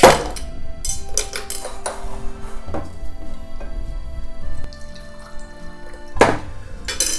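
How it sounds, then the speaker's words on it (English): Ice cubes clatter into a seamless glass mixing glass in several separate bursts, loud and close, followed by ringing glass tones and a final clattering drop. "So I use a mixing glass, specifically this elegant seamless glass from Umami Mart. Fill the glass with ice,"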